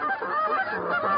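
A goose call imitates Canada goose honking during a hunt, sounding as a rapid run of loud, close, raspy honks with no pause.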